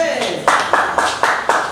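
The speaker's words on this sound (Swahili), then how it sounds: "Pigia Bwana makofi zaidi." Audience clapping at a church healing service, a few sharp rhythmic claps in quick succession, close and loud, with a voice speaking over them.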